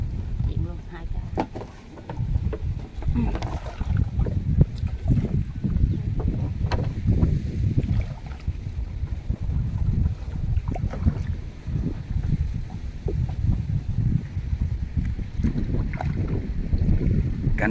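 Strong outdoor wind buffets the microphone with constant low rumbling roar and gusting surges in the Mekong Delta countryside, while someone talks over it.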